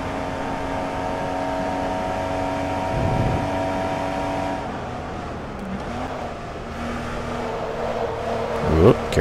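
A Porsche 914/6 in Forza Motorsport 2 holds full throttle, its steady engine drone running loud and continuous, with the pitch dipping and rising through shifts near the end.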